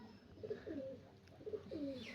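Pigeons in their loft give two soft, rolling coos in quick succession, quiet and close, with a faint chirp trailing after.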